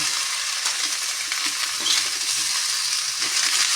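A spoon scrapes and stirs ginataan langka, jackfruit simmering in coconut milk with shrimp, in a pan. The steady sizzling hiss carries rhythmic scraping strokes throughout, with no talking.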